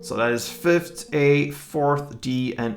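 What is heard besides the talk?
No everyday noise stands out behind the speech.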